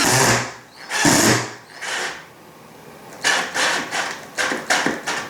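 A KIMO 20V cordless drill driver drives a screw into wood in short bursts: a couple of whirring runs, a pause, then a rapid series of brief pulses, close and loud with no talk.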